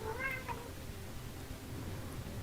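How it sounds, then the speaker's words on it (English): A cat gives one short meow at the very start, fairly faint over a constant low background rumble, and the rest is quiet. "Heard a cat."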